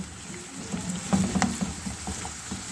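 Potato pieces for a Spanish omelette frying in oil in a pan over medium-low heat, a soft continuous sizzle with occasional light stirring clicks, quiet and close.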